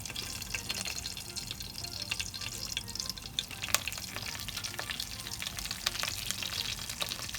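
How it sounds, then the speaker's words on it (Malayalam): Mustard seeds popping and curry leaves frying in hot oil for an egg curry, a steady crackling sizzle with scattered sharp pops and spits running throughout, close and fairly loud with no voices. "കടുക് പൊട്ടി വരുന്ന സമയത്ത് നമുക്ക് 2 അല്ലി കരിവേപ്പില ഇട്ട് കൊടുക്കാം"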